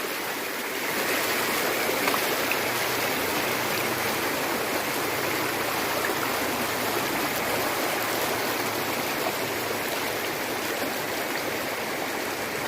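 Steady rushing of river water flowing downstream at a natural bathing spot, a continuous broadband wash that stays close and even throughout with no voices.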